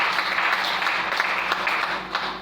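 A church congregation bursts into sustained applause acclaiming the Lord, a dense, steady roar of many clapping hands that holds loud and full before easing slightly at the end.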